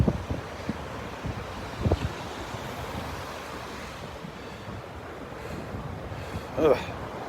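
Cold wind gusts across a Florida beach at Delnor-Wiggins, roaring against the microphone with surf behind it and a few sharper bursts.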